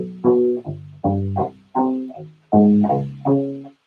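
Octave warmup exercise on a U-Bass, several plucked notes leaping between low and high octaves in a steady phrase, warm rubber-string tone, close and clear with no talk.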